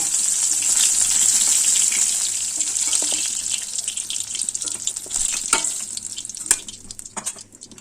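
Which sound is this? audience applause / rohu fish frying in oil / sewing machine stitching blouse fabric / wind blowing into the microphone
rohu fish frying in oil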